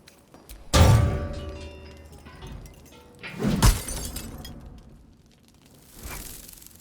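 Glass shatters in Baldur's Gate 3, a loud crash followed a few seconds later by a second heavy breaking impact, with a softer thud near the end.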